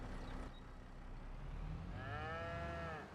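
Cows in a farm pen give a long low moo that rises and bends near the end, over a constant low rumble of background noise, with no talk.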